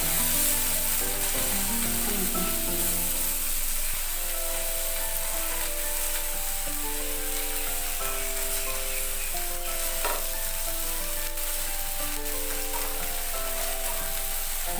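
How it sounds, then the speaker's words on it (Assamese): Paneer cubes sautéing in melted butter over a low gas flame, a steady loud sizzle and crackle running throughout with no one speaking, while faint music plays in the background. "বাটাৰখিনি এনেকৈ গলি আহিলে ইয়াতে মই এতিয়া পনীৰ কিউবছকেইটা দি দিম। মই অলপ চফে কৰি ল'ম।"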